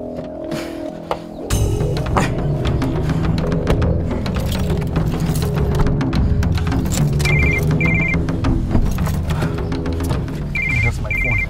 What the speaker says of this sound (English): That's my phone. Don't pick that up.